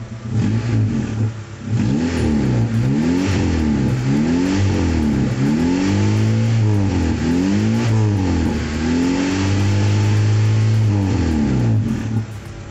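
A Daihatsu Taruna engine, first start after a top overhaul, is revved repeatedly on a cold morning, each blip rising and falling in pitch over a steady idle, close and loud with no talk.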